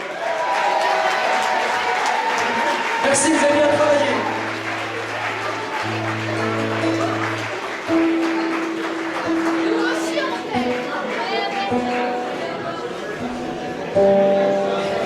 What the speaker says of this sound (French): Youssef et Luc qui partent sous nos applaudissements.